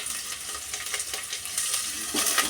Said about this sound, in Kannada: ಈ ಥರ ಹಾಕೊಂಡ್ಬಿಟ್ಟು ಎಣ್ಣೆಯಲ್ಲಿ ಸ್ವಲ್ಪ ಚೆನ್ನಾಗಿ ಫ್ರೈ ಆಗಬೇಕು